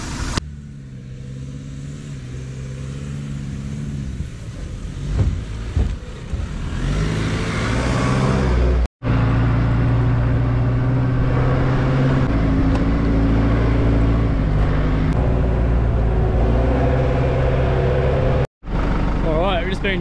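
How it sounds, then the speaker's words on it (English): A four-wheel-drive vehicle drives down a sand beach at Belvidere Beach. Its engine and road rumble form a loud, steady drone from inside the cab, with brief dropouts and a voice talking over it. "Been driving for probably a couple of k's down the beach."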